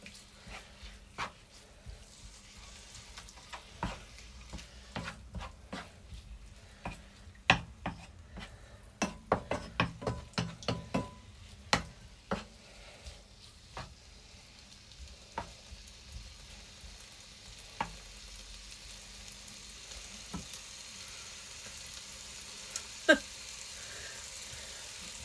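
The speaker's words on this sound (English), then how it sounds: "Here we go, nice and sizzling." Spicy beef noodles frying in a pan, a quiet crackling sizzle with scattered sharp pops and clinks of stirring, busiest around the middle and fading to a soft steady hiss.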